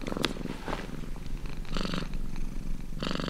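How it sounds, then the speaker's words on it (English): A cat purrs close up, a low continuous rumbling purr with steady rhythmic breaths and no voices. "It's a low-frequency noise and vibration for healing."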